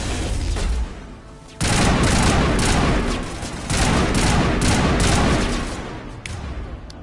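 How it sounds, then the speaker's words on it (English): Loud sci-fi weapon fire and explosive bursts from the Mass Effect video game, including an Overload power shot, crackle in heavy sustained waves with a brief lull between them. "If I were to just shoot my overload over there."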